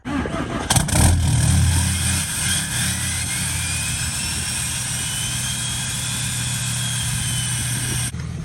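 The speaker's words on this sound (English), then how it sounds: "We'll do a little cold start on the alumiduty." A 2019 Ford F-250 Powerstroke diesel pickup cold starts after sitting a week and a half, with a damaged exhaust pipe; it cranks and catches, then settles into a loud, steady rumble before cutting off abruptly near the end.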